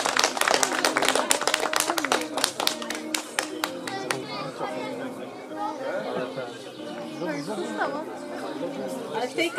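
Clapping breaks out from an audience at a show-jumping competition held at a riding club, a burst of sharp claps over the first few seconds, then thinning beneath steady crowd chatter and nearby voices talking.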